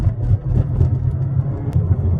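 A 2020 Mazda 3 hatchback on the move gives a steady low engine and road rumble, close and continuous with mild rises in revs, and no voices over it.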